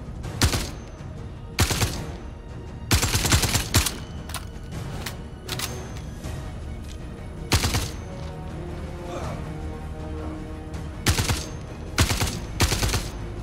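Enemy NPCs in the space game Star Citizen fire at the player in repeated bursts of loud gunfire, some short and some sustained, over a continuous low background hum.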